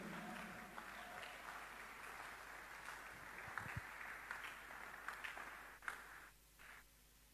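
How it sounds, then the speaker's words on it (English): Sustained applause from a church congregation for a preacher, a steady, fairly faint wash of clapping that fades out near the end. "Clap before I continue."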